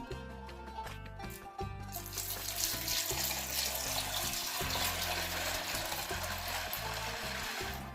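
Water pours over crushed fava beans to rinse them while making ta'ameya dough, a continuous splashing rush with a steady low hum beneath it.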